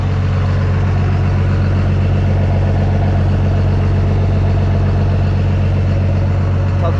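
A Cummins 24V diesel truck engine idles steadily with a deep, even rumble and faint rhythmic knock, close and constant throughout.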